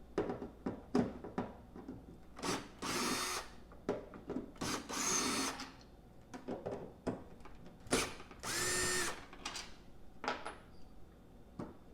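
A handheld power tool backs out Phillips screws from a Jeep Wrangler JK fuel filler cover, whirring in short bursts of about a second or two, separated by small clicks and handling noises, close and fairly quiet.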